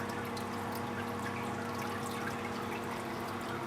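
Water rushes steadily through an aquarium sump fed by a high-flow pump rated at 10,000 litres an hour, a constant close splashing flow over a low motor hum.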